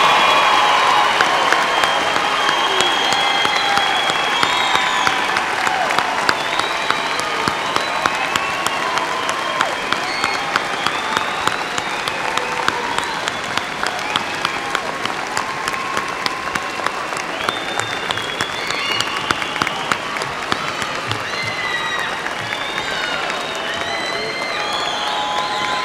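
Sustained applause from a large commencement audience honoring May 2018 baccalaureate graduates at West Texas A&M University, a steady dense wash of clapping with scattered cheers, lasting throughout without pause.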